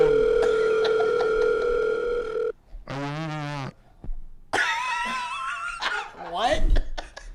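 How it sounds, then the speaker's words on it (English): A second telephone rings on another line, its ringing tone running loud and steady for a couple of seconds before breaking off. Voices and other sounds follow close by. "There's a phone calling my other phone."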